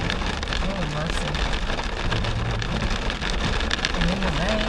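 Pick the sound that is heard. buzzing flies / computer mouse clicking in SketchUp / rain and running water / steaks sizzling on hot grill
rain and running water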